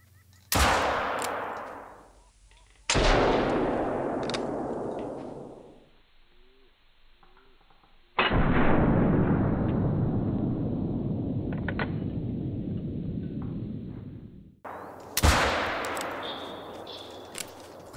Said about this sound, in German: Der erste Schuss ging komplett daneben.